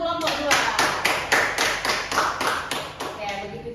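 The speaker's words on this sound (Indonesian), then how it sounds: "kita beri tepuk tangan untuk kelompok 2" A classroom of participants at a coding and AI training session claps in unison for a presenting group. About a dozen crisp, evenly spaced claps land together in a quick, regular rhythm.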